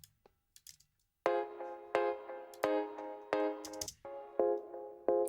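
Unfiltered Rhodes electric piano keys from a song play a series of bright, bell-like chords, each struck note ringing and decaying in a steady rhythm after a few faint clicks, with no voices.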